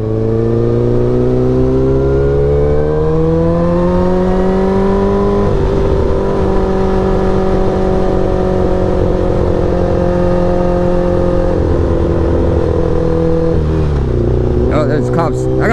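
A racing motorcycle fitted with aftermarket parts revs loudly and steadily up close, its engine pitch rising and holding with a brief dip near the end.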